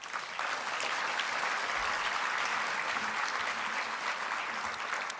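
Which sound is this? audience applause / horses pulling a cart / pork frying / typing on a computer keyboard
audience applause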